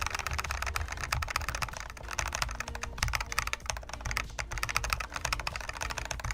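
Plastic keycaps fitted with O-rings clack steadily on a Tikitaka mechanical keyboard, a dense, continuous run of close keystrokes with no voices.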